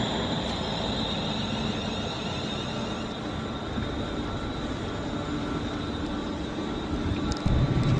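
Inside a passenger train near Bedford, a steady, even rumble of wheels and carriage noise runs throughout at constant loudness, with a faint hiss above and no talking.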